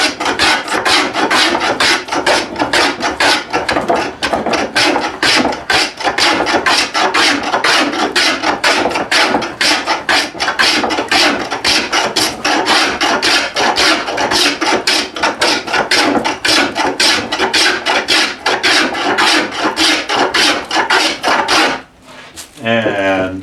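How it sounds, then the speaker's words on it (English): A hand plane takes down the thickness of a wooden chair seat blank in fast, repeated rasping strokes, loud and close, in a steady rhythm that breaks off briefly near the end. "I keep finding more things to show you about planing this thickness down"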